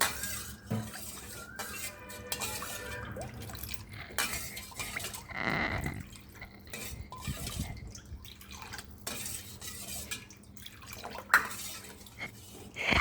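A spoon stirs vegetarian white coconut-milk gravy (pandhra rassa) in a pot, giving irregular scrapes, clinks and soft liquid sloshes at close range with no talking.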